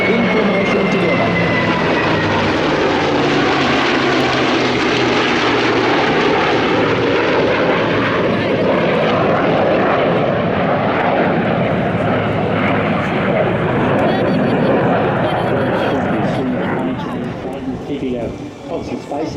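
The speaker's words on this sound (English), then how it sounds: "We have the Mustang, the Spitfire, the Super Hornet, and the F-35 in formation together." A formation of a Mustang, a Spitfire, a Super Hornet and an F-35 passes at an air show, a loud sustained engine roar with a shifting pitch sweep that fades slightly at the end.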